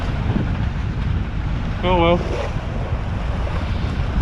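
Rough sea waves and strong wind roar around a small sailboat sailing solo toward Holyhead, North Wales, with constant loud wind buffeting and a brief spoken voice partway through.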